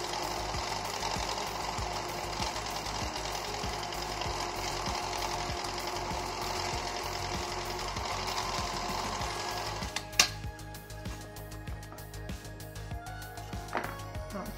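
A sewing machine stitches a fabric face mask with a fast, steady mechanical rattle for about ten seconds, then stops, leaving a few clicks and handling sounds.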